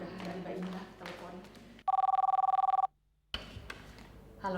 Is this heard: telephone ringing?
yes